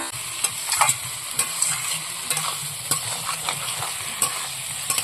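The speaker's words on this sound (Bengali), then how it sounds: "খাসির মাংস রান্না হচ্ছে" Mutton curry simmering in oil in a home kitchen, stirred with a spoon: a steady close sizzle with repeated scraping and clinking strokes at an irregular rhythm, no voices.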